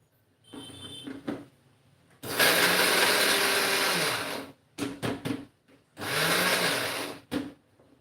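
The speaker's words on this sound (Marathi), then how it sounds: "आपण हे मिक्सरमध्ये अगदी व्यवस्थित फिरवून घेत आहोत" A mixer grinder grinds peanuts and jaggery in loud whirring bursts: a brief low run, two longer roaring pulses, and short quick blips between them, all close and free of talk.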